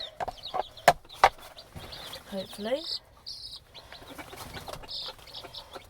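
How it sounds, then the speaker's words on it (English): A hen gives soft, intermittent clucks amid chirping insects and outdoor ambience, with a brief word spoken nearby. "She's making this clucking noise because she's eating out here"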